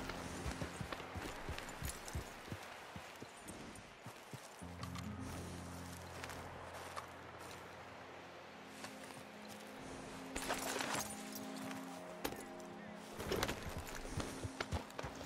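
A horse named Bruce walks in Red Dead Redemption 2 during a group trail ride, hooves clip-clopping in an irregular, fairly close rhythm, with a few quieter stretches and another horse nearby.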